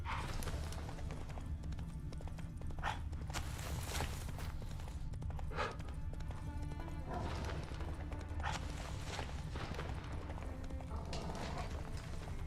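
A horse's hooves clip-clop in The Witcher 3, a steady close rhythm of hoof strikes over low game ambience, with a few brief louder accents along the way.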